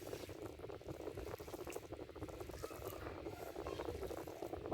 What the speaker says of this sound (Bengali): সবগুলো একসাথে মাখিয়ে নিতেছি